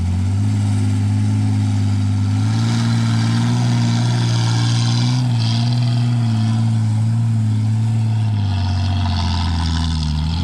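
A dump truck runs a rough, bumpy track, its heavy engine droning loud and close with a steady hum and small shifts in pitch as it revs.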